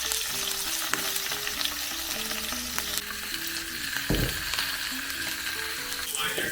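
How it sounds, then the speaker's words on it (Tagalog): Chicken wings frying quickly in oil in a pan, a steady crackling sizzle with a low background hum and one brief knock partway through. "ipiprito muna natin tong chicken wings ng mabilis"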